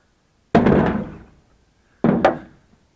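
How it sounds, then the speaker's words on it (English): A hammer strikes metal intake parts in a garage repair, two sharp, loud impacts about a second and a half apart, each ringing briefly before fading, with no talk. "So let's smack this stuff with a hammer."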